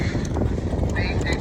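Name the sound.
horse galloping on a horse trials course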